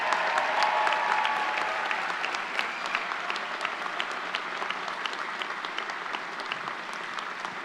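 Commencement crowd applauding faculty and staff in a large venue, sustained even clapping from many hands, steady and moderately loud throughout.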